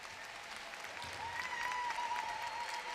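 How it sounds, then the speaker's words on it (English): Steady applause from a modest crowd at a national dog show, honoring a Newfoundland breeder, fairly quiet and distant, with a faint tonal whine running through the middle. "Let's hear a nice round of applause for our Newfoundland breeder"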